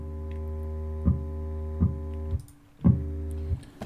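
Steady synthesized sine and triangle wave tones with a rich stack of harmonics, broken by a few brief clicks as the sound is adjusted; no voices.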